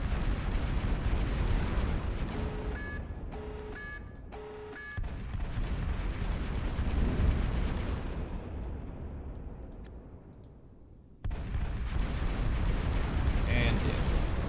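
Battleships pound away with their guns in the Final Theory space battle game, a sustained roar of booming fire with rhythmic pulsing tones early on, a fading lull, then an abrupt loud return; talk is mixed in.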